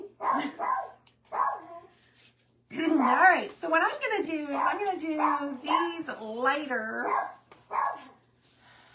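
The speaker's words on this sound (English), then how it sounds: "Sorry for the dog barking." A dog gives a couple of short barks at the start, then a person speaks at length in the foreground while the dog falls quiet.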